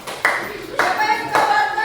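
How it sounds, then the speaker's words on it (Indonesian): Three short bursts of hand clapping from a group in a classroom, each starting sharply and fading, with a ringing tone underneath. "Kita beri tepuk tangan untuk kelompok."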